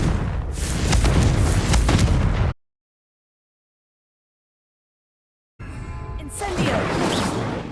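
A Confringo spell in Hogwarts Legacy bursts with a heavy booming explosion and rumbling debris, followed by a sudden silence before more blasts and crackling return.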